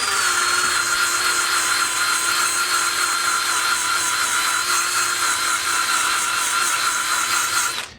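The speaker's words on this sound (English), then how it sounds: "you can take a wire wheel and put it in your drill" A steady high whine of a spinning drill with a wire wheel brushing wood, running continuously at constant speed before cutting off abruptly at the end.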